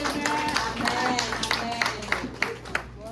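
A church congregation claps and applauds through a steady patter of hands, with a voice speaking over it and the clapping thinning into a few sharper claps near the end.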